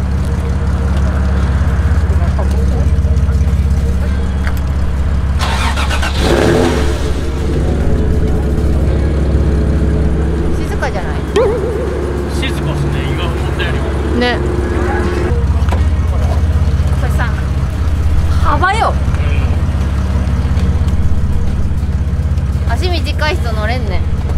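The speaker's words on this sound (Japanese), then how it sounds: "ちょっとエンジンかけてみましょうか。" A car engine at a street-racer meetup in Ibaraki and Gunma starts, then revs with bursts of throttle and settles into a steady, loud idle, heard up close with a continuous low rumble throughout.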